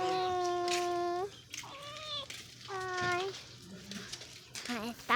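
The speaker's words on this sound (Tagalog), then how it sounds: "ito po pusa ko" A house cat meows repeatedly at close range, giving several long, drawn-out, whining cries with short pauses between them and a brief squeaky call at the end.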